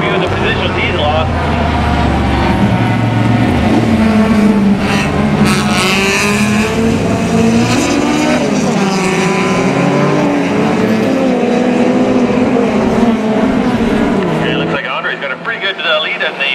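Closed-wheel race cars circling Mission Raceway, engines droning and revving continuously at close range as the leader laps slower traffic, with a commentator talking over the steady roar.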